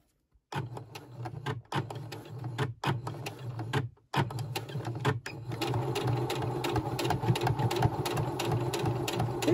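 A sewing machine stitches a backstitch through fabric while making a small coin purse, starting after a brief silence with short bursts, a pause near four seconds, then a steady, continuous close-up whir that runs alone to the end.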